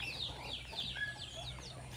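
Orpington chickens in a coop at feeding time, clucking and making short, soft calls at close range over a steady low background hum, with no talking.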